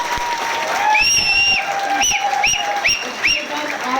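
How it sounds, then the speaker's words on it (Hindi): Applause from a gathered crowd at a company distributor meeting, sustained dense clapping across the clip with bright whistles or cheers rising over it at intervals. "सीटीसी अजीत सर के लिए 2000 तालियां।"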